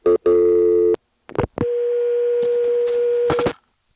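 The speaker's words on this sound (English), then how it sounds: "when I flash now, I'll just get a three-way dial tone" On a 1A ESS Centrex line, a flash brings clicks and a short tone burst, then a steady three-way dial tone that holds for about two seconds before a few final clicks cut it off.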